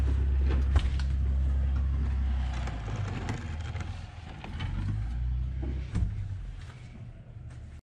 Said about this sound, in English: that truck I'm hearing is the snow plow